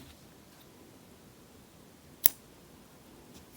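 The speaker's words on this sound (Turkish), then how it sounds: "Şimdi bu ipi kesmek istiyorum ben." Scissors give a single sharp snip through crochet yarn midway, close and crisp against a quiet room.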